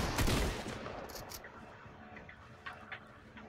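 Gunfire crackles in Fortnite: Battle Royale: a louder burst opens, then a scatter of quieter, distant shots pops intermittently.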